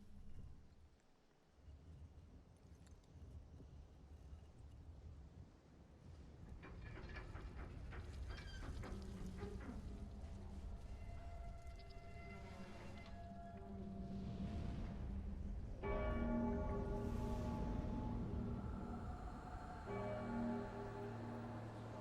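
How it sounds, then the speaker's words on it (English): A large bell rings out at the Great Belfry in the Dark Souls 3 video game, with resonant, sustained tones swelling and striking again several times, loud and clear over a low game ambience, with no talking. "we are at the Great Belfry, and we're approaching, and we're gonna ring the bell"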